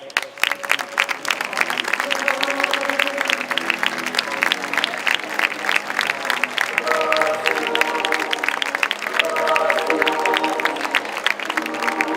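A crowd at the Festa Major in Blanes applauds as the mayor and the festival's opening speaker come on stage, dense sustained clapping for about twelve seconds with some voices mixed in.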